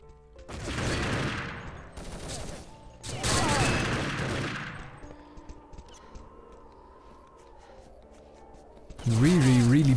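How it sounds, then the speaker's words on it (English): Grenade blasts and scattered gunfire during a competitive video game match between Belgium and Portugal, heard as several loud bursts in the first half and another at the end, with a commentator talking throughout. "In come the grenades to cut off the Belgians' escape"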